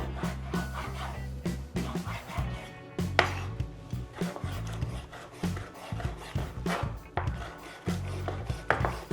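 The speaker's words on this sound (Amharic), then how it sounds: "ቀሪውን አሳ እንደዚህ አድርጌ ከትፈዋለሁ።" Fish is chopped with a knife on a board in a home kitchen, a close series of firm, irregular thuds and scraping knocks repeating throughout, with no talk.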